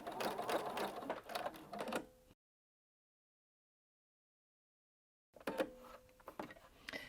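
A sewing machine stitches rows of shirring along a cuff, running in two close bursts of rapid mechanical clatter separated by a silent gap of about three seconds.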